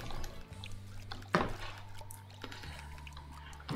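Watering seeds in the video game Summer in Mara, with soft pouring and dripping water effects over a low steady game music bed, plus a brief splashy burst in the middle.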